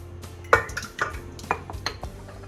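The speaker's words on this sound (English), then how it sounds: "I'm going to take and beat 4 eggs" Four eggs being beaten in a bowl while making a limoncello cake, giving quick clinking and scraping strikes of utensil against dish at an irregular pace, fairly close and alone.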